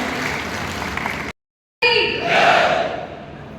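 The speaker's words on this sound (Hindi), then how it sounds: "आपको जोरदार तालियां बजाकर स्वागत करें" A crowd at a village council leaders' conference cheers and claps to welcome a guest, loud and dense, cut by a half-second of dead silence before resuming with shouting and a swell of noise.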